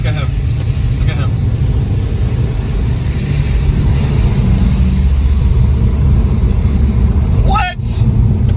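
A Pan American box truck races past on the road, its engine a steady loud rumble throughout with a brief swell near the end as it goes by, while talk runs underneath.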